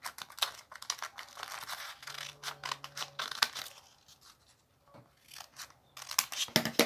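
Scissors snip through paper during a children's craft project making a paper flower vase, with a rapid series of close, crisp cuts and crinkles broken by brief pauses, with no talk.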